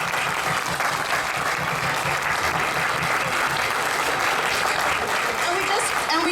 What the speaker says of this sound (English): I'd like everybody here to give her a huge round of applause.